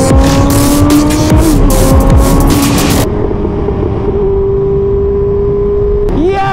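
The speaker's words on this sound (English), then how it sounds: "and the sound of this exhaust" A loud car exhaust revving hard with bursts of crackle, the engine note rising and falling in close, continuous pulls before settling into a steady drone.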